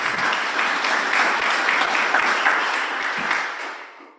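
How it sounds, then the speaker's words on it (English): Audience applause fills a Rotary club meeting, a dense, steady clapping from many hands that holds for about four seconds before tapering off at the end. "Let's give another round of applause to Melinda."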